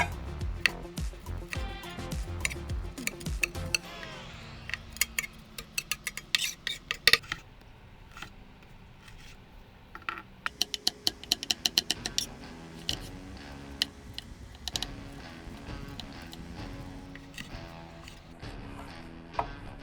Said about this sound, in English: Dice these as big or small as you want.